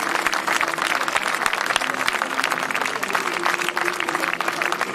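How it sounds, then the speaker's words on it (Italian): Steady applause from a crowd at an outdoor Italian Army cavalry lance carousel event in Montebello della Battaglia, as a lancers' fanfare band leaves the field; dense, continuous clapping for the whole stretch. "facciamo ancora un applauso alla fanfara"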